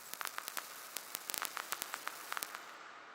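Sparse, irregular digital crackles from the IPOS distortion plugin: sharp, bright clicks scattered unevenly over a faint steady hiss, fairly quiet, stopping just before the end.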